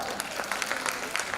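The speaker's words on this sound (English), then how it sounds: "You guys should give yourselves a round of applause" Audience applause at a school annual day in an auditorium, a steady wash of many hands clapping at moderate distance, filling the whole short stretch.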